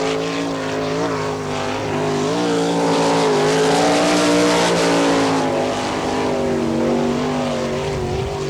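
A sprint race car runs a solo lap at a Wichita, Kansas speedway during a 1998 NCRA All Stars event: a loud, sustained engine roar that rises and falls in pitch through the corners, close and continuous throughout.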